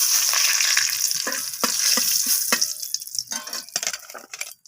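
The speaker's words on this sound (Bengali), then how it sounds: "আমি ওই তেলের মধ্যেই একটা শুকনো লঙ্কা ফাটিয়ে দিয়ে দিলাম এরপর দিয়ে দেব তেজপাতা" Dry red chilli and bay leaf fry in hot oil with a steady bright sizzle, broken by sharp crackles and pops that come clear and close before easing.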